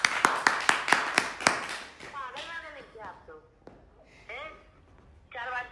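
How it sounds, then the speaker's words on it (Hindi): Sharp, loud claps strike in a quick irregular burst at the start of a prank call show, then give way to talking voices. "एक बार जोरदार तालियां हो जाए।"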